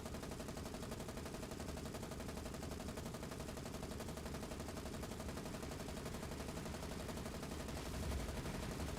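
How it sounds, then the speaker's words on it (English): Rapid, continuous gunfire rattles through a naval battle in the War on the Sea video game, a steady dense barrage at moderate level with a low thump near the end suggesting an explosion. "Another explosion."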